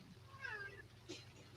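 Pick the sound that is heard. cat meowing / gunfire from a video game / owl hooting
cat meowing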